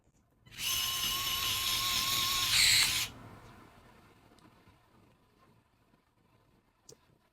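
An INJORA mini cordless electric screwdriver whines steadily for about two and a half seconds while driving screws into a set of wheels, then stops, leaving faint handling clicks, close and alone.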